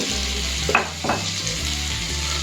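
Chili, black pepper, garam masala and coriander powders with salt are stirred in a hot pan for a clam curry, giving a close, steady sizzle with a couple of brief scraping strokes and no talking.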